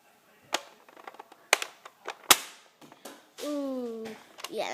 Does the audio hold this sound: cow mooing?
no